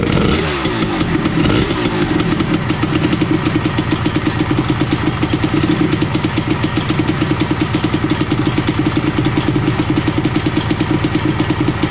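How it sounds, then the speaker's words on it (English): Tuned TS1 engine in a super tourer race car catches on a first start and settles into a loud, steady, close-up idle with a fast, even pulsing beat, no talking. "So that's the engine up and running"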